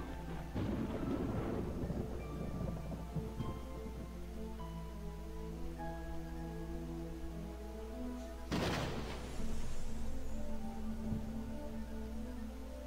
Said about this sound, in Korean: 분위기에 맞게끔 천둥번개도 치네요